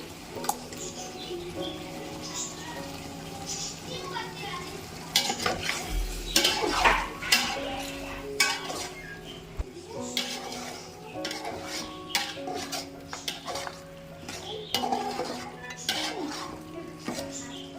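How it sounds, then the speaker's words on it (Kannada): A utensil stirs tomato paste into mutton in a cooking pot for mutton biryani, giving repeated scraping clinks and metal knocks against the pot over a soft sizzle, close and continuous. "ಈಗ ಇದಕ್ಕೆ ಟೊಮೊಟೊ ಪೇಸ್ಟನ್ನ ಸೇರಿಸ್ಕೊತಾ ಇದ್ದೀನಿ"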